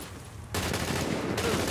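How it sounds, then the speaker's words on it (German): Machine gun fire in Tom Clancy's The Division, a weapon with a 36-round magazine, starting abruptly after a quiet moment and continuing as a dense, loud stream of shots. "Das ist ja ein lustiges MG. Das hat nur 36 Schuss."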